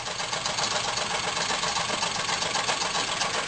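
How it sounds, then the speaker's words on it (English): A small Stirling engine runs steadily with its crank pin and connecting rod in place, giving a continuous dense mechanical whir with a fast even rhythm, loud and close. "I got the engine running just to show you the complete cycle of what's happening here."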